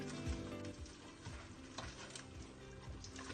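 Potato and aubergine curry mixture cooking in a pan on low heat, a steady, close sizzle with faint ticking and stirring scrapes throughout, no talking.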